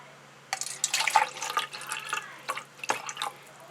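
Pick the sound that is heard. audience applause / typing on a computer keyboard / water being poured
water being poured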